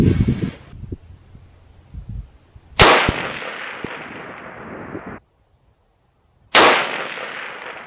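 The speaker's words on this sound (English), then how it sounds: "So four shots. I think that was the fourth shot." A 300 WSM rifle firing Norma BondStrike ammunition at a long-range 1,000-yard session: two loud, sharp reports, each with a long rolling echo that fades over a couple of seconds, after the tail of an earlier shot.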